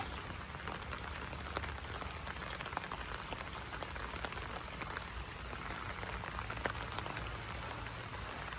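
Steady rain falling over farm fields during flood conditions, a dense constant hiss of drops with scattered close splashes, continuous and unbroken throughout.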